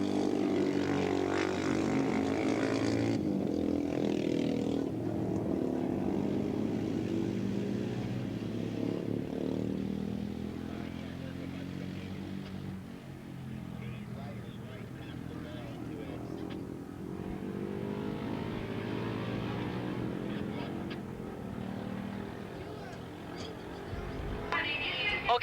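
Racing motorcycles, including a Harley Davidson, at Willow Springs International Raceway during a 1986 Battle of the Twins & Singles race; a steady, fairly distant engine drone rises and fades under continuous commentary.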